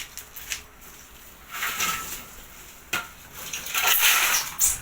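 Plates and dishes clatter and clink in a few separate bursts, close by, with brief pauses between the handling sounds.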